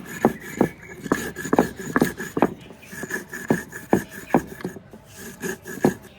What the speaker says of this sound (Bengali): আর নুন দিয়ে এর সঙ্গে আমি একটু বেটে নেব